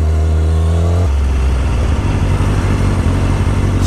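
A ZX6R motorcycle revs out on the road, a loud, steady engine drone with a pitch change early on, then a sustained rumble with no talk.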